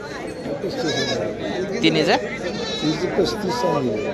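Goats bleat at a busy goat market in Koregaon, Satara, with several wavering calls rising over a crowd where people talk nearby throughout.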